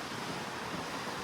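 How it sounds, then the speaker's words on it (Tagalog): Strong wind buffets an open cruise ship deck in the middle of the ocean, a steady, dense rushing roar with no voices. "Lakas ng hangin, no? Sobrang lakas."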